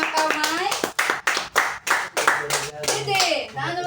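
Classroom children clapping together in a multigrade classroom, a quick run of sharp, loud claps in a steady rhythm with children's voices chattering over them.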